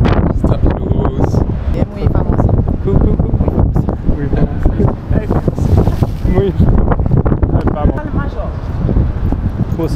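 Strong mountain wind roars and buffets hard against the microphone, loud and constant for the whole stretch, with a voice partly buried under the rumble.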